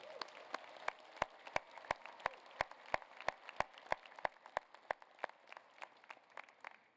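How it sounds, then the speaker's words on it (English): Graduates at a business school winter commencement clap, heard as a steady run of sharp, evenly spaced single claps over a faint crowd murmur that loosens toward the end. "Give yourselves a round of applause."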